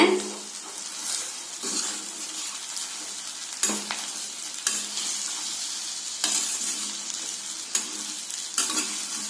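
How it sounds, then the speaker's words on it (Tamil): Cooked rice being stirred into fried brinjal in a pan for brinjal rice, a steady sizzle with repeated scraping and stirring strokes of a utensil against the pan, close and moderately loud, with no talking. "அதையும் இதோட சேர்த்திடலாங்க. இதைய நல்லா கலக்கிக்கலாங்க."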